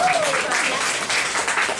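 A congregation at a family worship service claps for Jesus, a thick, close, pulsing patter of many hands that carries on steadily for a couple of seconds just after a voice trails off.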